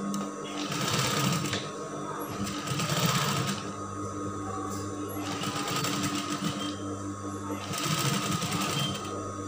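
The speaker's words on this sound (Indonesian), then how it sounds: "kita jahit." Sewing machine stitching a woven outer garment, running in several bursts of rapid rhythmic whirring with short pauses between them; a voice talks faintly underneath.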